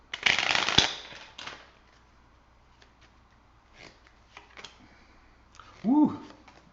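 A deck of tarot cards is riffled and shuffled in a quick close burst at the start, followed by quieter handling clicks and a brief voiced exclamation near the end.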